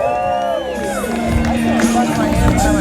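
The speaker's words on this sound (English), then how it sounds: "Give it up for Amber Lynn." An audience at a live variety show cheers and whoops loudly, crowd noise building across the moment with shouts and a few high voices mixed in.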